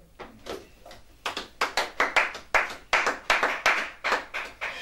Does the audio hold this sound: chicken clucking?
no